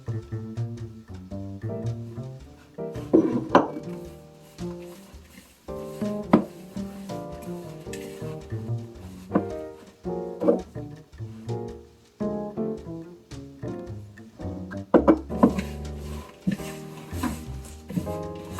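Rock cake dough being stirred by hand in a bowl as milk is added bit by bit, with irregular scraping and thudding knocks close by, under faint background music.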